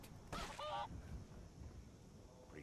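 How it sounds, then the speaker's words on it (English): A chicken in Skyrim gives a short honking cluck near the start, close and fairly clear, then quiet background follows. "Oh, there's a chicken here."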